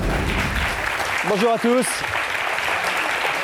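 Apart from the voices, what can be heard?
studio audience applause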